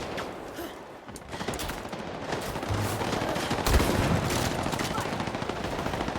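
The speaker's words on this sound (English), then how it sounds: "You laying cover fire, Steve?" Rapid gunfire in the video game Highguard, dense bursts of shots and automatic fire that rattle on continuously, loud and close, with voices talking over the shooting.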